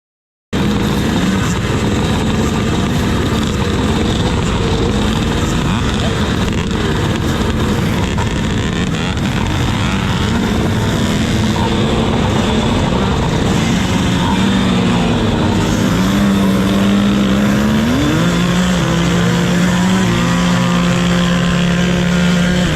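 A vintage motocross bike racing on a sand track: a loud, close engine drones steadily, rising and falling in pitch as it shifts and accelerates.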